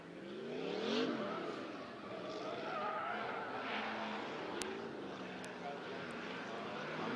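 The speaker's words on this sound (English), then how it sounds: "Scott Shambry out there now scrubbing the tyres in the Hi-Tec Oils 350Z" The Hi-Tec Oils Nissan 350Z race car scrubs its tyres at Sydney Motorsport Park. Its engine revs and shifts through sweeping pitch changes, moderately distant, with a broadcast commentator talking over it.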